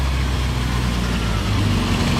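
A three-wheeled helicopter car's engine running steadily just after starting, a loud, close, even mechanical drone with a low rumble, with no talking.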